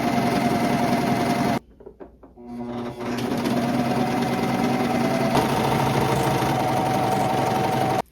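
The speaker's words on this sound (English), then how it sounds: "for the lettuce trim, I want to use maximum tension, and we're going to pull the fabric while we sew" A serger stitches a lettuce-edge trim at maximum tension while the fabric is stretched, a loud steady mechanical whir that stops briefly near the start and then runs continuously to the end.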